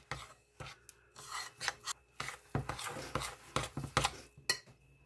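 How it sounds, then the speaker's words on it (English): One cup of granulated sugar and half a cup of brown sugar are stirred together in a bowl, making rhythmic gritty scraping strokes, close and fairly quiet, with short pauses between bursts and no talking. "I'm just going to mix this all up together."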